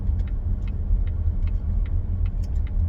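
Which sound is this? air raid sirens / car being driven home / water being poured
car being driven home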